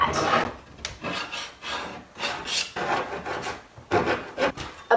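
A putty knife scrapes painted wood furniture to distress it, giving repeated rough, rasping strokes in uneven bursts, close and fairly loud, with no voices.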